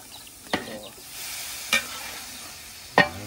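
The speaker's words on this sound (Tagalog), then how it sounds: "naisalang na natin ang ating chicken para sa chicken curry" Chicken for a chicken curry sizzles in a pan under a soft steady frying hiss, broken by three sharp scraping strokes of stirring at about one-second intervals, with no one speaking.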